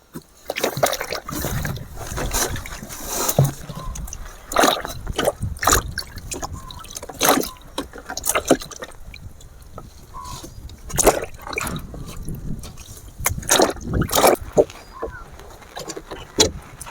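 Water is poured out of a container outdoors while small pond fish are being prepared, heard as repeated splashy pours and trickles in uneven bursts, fairly close, with no talk.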